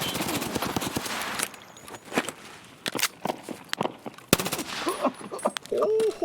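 Gunfire from a Sig MCX in Escape From Tarkov rattles in quick bursts and single shots at close range, mixed with footsteps and movement noise, uneven and loud throughout.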